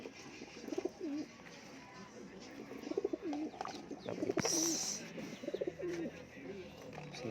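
Racing pigeons coo at feeding time: soft, repeated throaty coos close by, overlapping in short phrases, with light rustling and a brief sharp noise in the middle.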